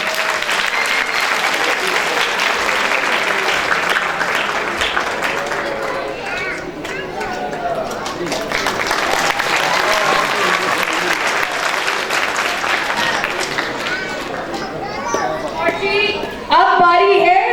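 Audience applause at a prize distribution ceremony, steady clapping from a room full of people that runs nearly the whole time, with children's voices and chatter mixed in and a louder burst near the end.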